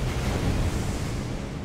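Explosions in the video game Elden Ring, a dense continuous roaring blast of noise filling the short moment at moderate volume, with no speech.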